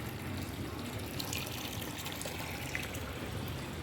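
Water steadily pours and splashes into a half-filled home swimming pool, a continuous close, fairly quiet rushing sound with no talking.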